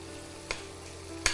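Paneer roasting in plenty of oil in a pan over a low flame gives a steady, quiet sizzle, broken twice by short stirring scrapes.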